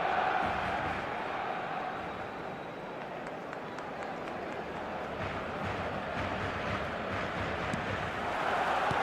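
A football video game's stadium crowd roars as a dense, continuous wash of voices, steady and loud from start to finish without any distinct individual words.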